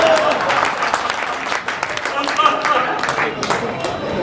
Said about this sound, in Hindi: और तालियां इस बात पे बजाना